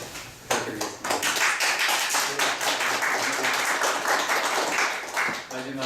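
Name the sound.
audience applause for panel presenters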